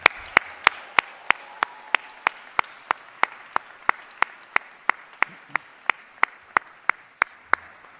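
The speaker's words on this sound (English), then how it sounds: "Please give a loud cheer in recognition of all the support you have received from friends and family." A graduation ceremony audience in Dumfries claps in sharp, evenly spaced hits, roughly three per second, close and fairly loud, in a rhythmic unison pattern rather than scattered applause, with a faint voice underneath.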